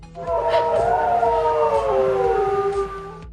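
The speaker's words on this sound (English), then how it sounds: "when an ambulance goes by, you get to hear this." A loud ambulance siren wails steadily with falling and rising pitch sweeps, close by and continuous, as it passes on a highway over a low rumble of traffic.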